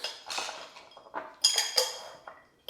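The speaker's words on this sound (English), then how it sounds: "take your shaker, add some ice cubes" Ice cubes dropped into a metal cocktail shaker for a margarita, a series of sharp close clinks and rattles in quick bursts.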